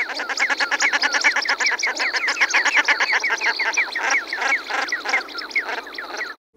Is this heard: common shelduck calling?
yes